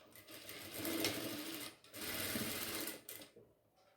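A sewing machine runs in two quick bursts, stitching piping onto a baby top, its needle rattling steadily and stopping between runs.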